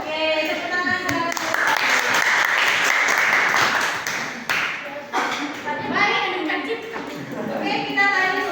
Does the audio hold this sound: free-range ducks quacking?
no